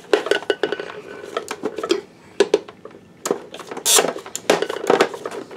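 A loose part rattles and clatters inside an Optoma HD142X DLP projector under repair, giving close, irregular metallic knocks and clinks in uneven bursts.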